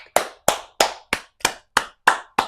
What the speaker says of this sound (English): so we're gonna clap. Claps for you, girl.